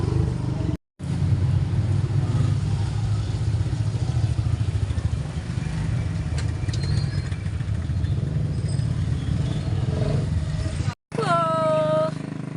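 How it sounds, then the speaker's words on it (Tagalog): Busy Sunday road traffic near a market: a continuous loud rumble of cars and motorcycles passing close, with engine roar and clatter rising and falling. The sound is cut by two brief breaks, and talk is heard at the end. "Ang dami mga sasakyan pagka araw ng linggo."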